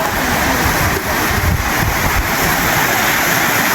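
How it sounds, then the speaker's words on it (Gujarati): Steady, loud rushing roar of a waterfall beside a dam in Gujarat, continuous broadband noise with no breaks and no voices. "આ છે આ બાજુ ધોધ જો"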